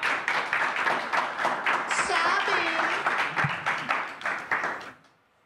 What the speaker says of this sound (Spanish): Un aplauso para el Papa.